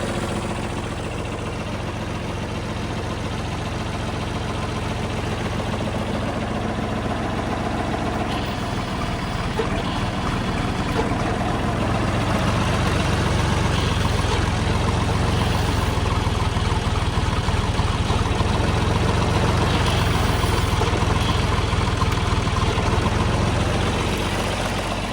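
A repaired $650 John Deere tractor engine idles steadily after a fresh battery charge, a loud, continuous low rumble with an even mechanical chug that holds for the whole stretch, with no talking.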